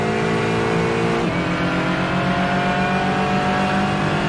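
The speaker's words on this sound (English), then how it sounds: "Heavy on the brakes and down a gear into third there." A race car in a sim racing video game at Barcelona brakes hard and drops a gear into third, the loud engine note falling abruptly then holding a steady drone, with no talk over it.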